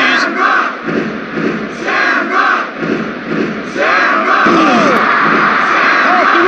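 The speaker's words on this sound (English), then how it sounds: "Listen to this capacity crowd." A packed wrestling arena crowd in the WWF War Zone PlayStation game roars and cheers continuously, loud and dense, with swelling chants and a brief commentator-style voice underneath.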